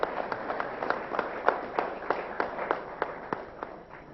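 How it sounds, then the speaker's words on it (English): An audience claps for the panelists at the close of a finance panel discussion, a sparse, uneven patter of individual hand claps in a room, moderately close and fading slightly toward the end. "let's give a big round of applause for our panelists."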